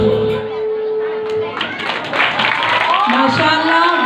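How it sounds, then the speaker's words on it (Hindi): Audience at a school function claps for the children's performance, a steady spread of applause with voices and speech mixed over it. "बहुत जोरदार तालियां बजाइए"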